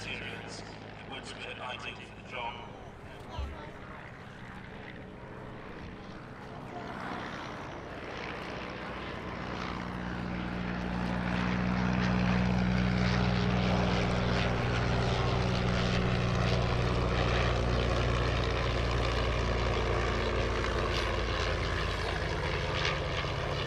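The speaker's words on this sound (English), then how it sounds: "First up in this next scenario is the first ever flying display by this replica Royal Aircraft Factory S.E.5." A replica Royal Aircraft Factory S.E.5 biplane's propeller engine drones through a flying display at a warbird airshow, growing louder and steadier as it passes, with a commentator talking over it.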